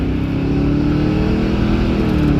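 A 1994 convertible on a test drive spins its tires, the engine holding a steady, loud, close drone with a constant rumble throughout.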